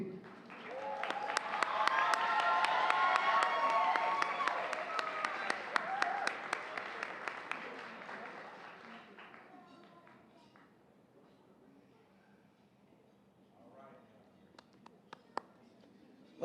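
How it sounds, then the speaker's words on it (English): An audience at the Bloomington Black History Month gala applauds its sponsors, a broad wash of many clapping hands that swells, then gradually fades to a few scattered claps. "Let's give a round of applause for our Black History Month sponsors."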